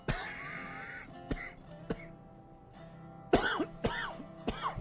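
A person coughs and clears their throat in a quiet room during a railroad game livestream, several short separate bursts spread across a few seconds, close and fairly soft.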